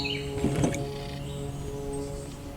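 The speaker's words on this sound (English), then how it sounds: "the birds you hear, they get credit at the end" Birds chirp and sing in the background, including a cardinal, Eastern towhee and Carolina wren, a few brief calls rising over a steady outdoor hum, with a short louder burst near the start.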